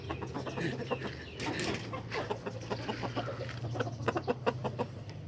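A flock of farm chickens clucks busily at evening feeding time, overlapping soft clucks and a few louder squawks, with steady low background hum and faint pecking throughout.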